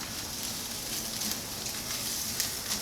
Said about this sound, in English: Now I'm going to add about half a cup, just a little more than half a cup of our Riesling. Give that a stir.